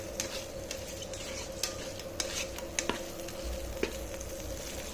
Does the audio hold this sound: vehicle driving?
no